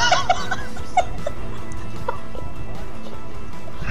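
Chicken clucking in GTA 5 Online, with short, bright clucks and squawks that pop out over a steady background of game noise and low rumble.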